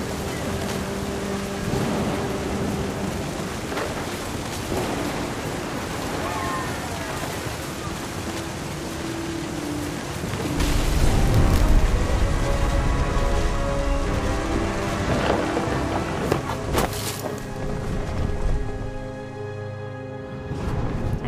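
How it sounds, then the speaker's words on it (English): Game thunderstorm in Remains of Edith Finch: steady rain on surfaces with deep thunder rumbling close and heavy, swelling loudest partway through, alongside a faint voice and background music. "The thunder sounded much too close and full of angry power."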